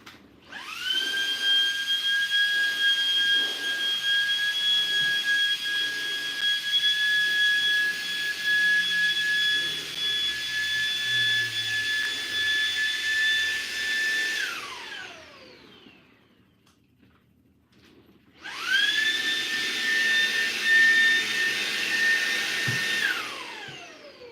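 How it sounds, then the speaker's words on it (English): A vacuum cleaner sucks up baking soda with a steady high motor whine for about fifteen seconds, powers down, then starts again with the same loud, droning hum. "It dries it up, soaks everything up, and then you can just vacuum it up."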